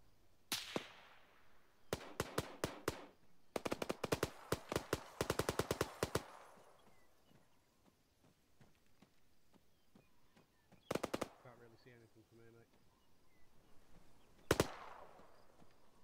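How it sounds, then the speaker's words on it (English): Distant gunfire in the military shooter ArmA 3: bursts of automatic fire and single shots crack in clusters over several seconds, with later isolated volleys, echoing faintly across an open landscape. "Right now I'm hearing shots, but I've got no eyes on any contacts."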